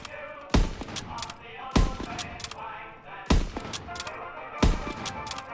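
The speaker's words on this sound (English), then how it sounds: "Now, if I fire all 9 bullets out of my gun." Gun firing in Call of Duty WWII: four loud, separate shots spaced roughly a second apart, each a sharp crack with a short decaying tail, and faint mechanical clicks between them.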